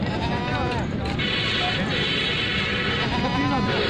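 Goats bleating at a busy livestock market in Lahore, repeated wavering calls from several animals rising over a constant crowd babble and nearby talk.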